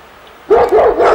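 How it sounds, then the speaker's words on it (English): Gun dogs bark in short, loud yelping bursts close by, several quick barks in a row after a moment of quiet. "Gun dogs."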